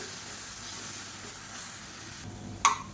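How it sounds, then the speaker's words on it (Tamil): Tomato paste fries in hot oil in a pan for spicy egg kothu idli, giving a steady soft sizzle and hiss that ends in a sharp metallic clink near the end. "இப்போ தக்காளி நல்லா வதங்கிருச்சு நல்லா லைட்டாக அப்படியே எண்ணெய் பிரிய ஆரம்பிச்சிருச்சு"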